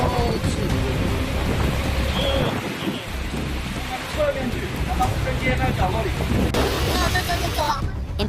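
Heavy rain pounds down without pause during a thunderstorm in Mandalay, Myanmar, after a 7.7 magnitude earthquake, with deep rolling thunder rumbling beneath the loud, dense downpour.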